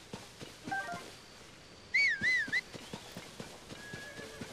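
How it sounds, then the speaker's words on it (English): A horse in the video game Zelda: Tears of the Kingdom gives a short, wavering whinny amid soft, evenly spaced hoof clops, fairly quiet overall. "Yeah, a horse heard us."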